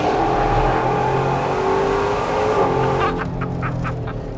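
An off-road 4x4, a Bowler Bulldog or Ford Ranger Raptor, revs loudly on a track, a rough engine roar with rising tone and a rattling window, up close throughout.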